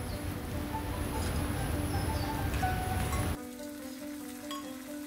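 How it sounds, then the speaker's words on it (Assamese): Chopped tomatoes frying in a pan while being stirred with a spatula, giving a loud, rain-like sizzle that drops abruptly to a quieter, softer hiss near the end. "বিলাহীখিনি দি পেলাই হেতাখনেৰে লৰাই লৈছোঁ।"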